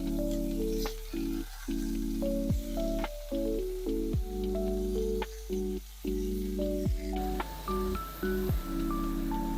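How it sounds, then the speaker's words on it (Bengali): Cauliflower pieces frying in hot white oil in a wok give a steady crackling sizzle that runs throughout under background music. "তেল গরম হয়ে গেছে, এবার আমি ফুলকপিগুলোকে ভেজে নেব।"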